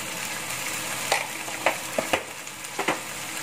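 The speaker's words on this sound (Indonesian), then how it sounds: "Saya aduk dulu" Oseng, an Indonesian stir-fry seasoned with salt, pepper and flavor enhancer, sizzles steadily in a pan while being stirred, with several sharp spatula scrapes and clicks spread irregularly over the hiss; no talking.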